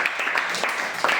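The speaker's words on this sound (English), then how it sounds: "Give her a big round of applause." A classroom audience gives a presenter a short round of applause, brief, slightly muffled clapping from a group of students lasting about a second.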